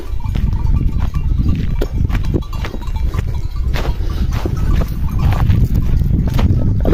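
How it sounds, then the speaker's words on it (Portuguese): Goats in the scrub, including a billy goat, move and bleat amid a steady rustle and clatter of hooves and brush, with a bell clinking now and then, fairly close and continuous. "Ô, bode!"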